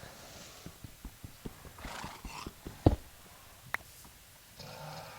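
Horses in Minecraft neigh and whinny while their hooves clip-clop in a quick, irregular gallop rhythm, with a sharp loud whinny near the middle and a shorter one after it.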